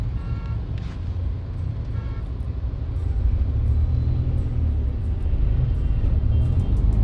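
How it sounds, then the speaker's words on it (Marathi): A steady, heavy rumble of road traffic at Chandni Chowk in Pune, with engines droning continuously and a faint horn toot early on. No one speaks. "पुण्यात चांदणी चौकात एवढं प्रचंड ट्रॅफिक आहे"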